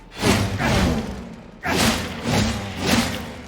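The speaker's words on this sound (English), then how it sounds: "Next up, chainsword lights." Chainsword light attacks in Darktide, a Warhammer 40K video game: three loud, heavy thudding impacts with buzzing grind, evenly spaced, close and alone.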